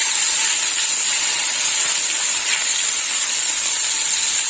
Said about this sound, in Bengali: এবার আমি একটু পেঁয়াজ বাটা দিয়ে দেবো দিয়ে দিলাম পেঁয়াজ বাটা